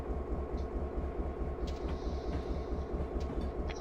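Simulated train rolling along the Stevens Pass route in Train Simulator, a steady low rumble of wheels on rails with continuous engine drone and occasional faint higher clicks, loud and unbroken with no talk.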